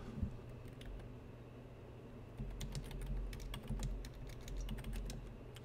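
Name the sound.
typing on a computer keyboard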